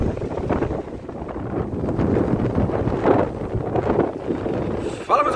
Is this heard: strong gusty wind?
yes